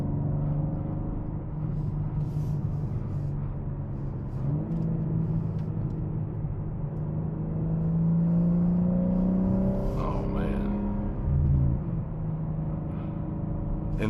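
A 2025 BMW M4 Competition runs along curvy roads, a steady engine hum and rumble with revs rising around the middle and a brief surge near the end.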